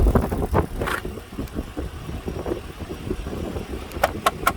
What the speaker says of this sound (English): Man, what a sweet running motor.